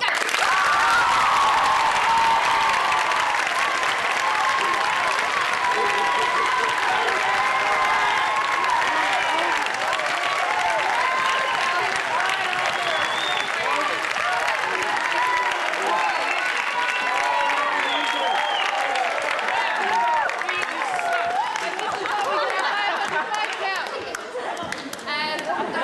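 A large theatre audience at a fall festival performance claps loudly and continuously, a dense roaring wash of hands with scattered cheers and crowd chatter blended in, tapering slightly near the end.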